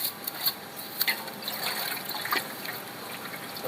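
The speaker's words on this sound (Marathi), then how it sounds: "ही पातेल भरतो ना आता, पप्पाला पाणी ठेवायचं आहे." Water runs into a cooking pot from a tap or container at home, a steady trickling splash with small irregular plops and clinks, fairly faint and without talk.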